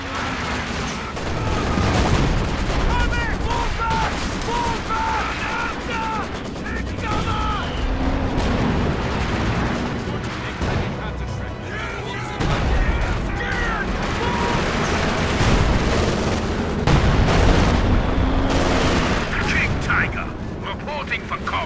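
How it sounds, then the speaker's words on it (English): Company of Heroes battle with continuous machine gun and small arms fire alongside booming artillery-like blasts, sustained and loud throughout, with shouted voices layered over the combat. "Maschinengewehr incoming! Move! Verschieben! Taking small arms fire!"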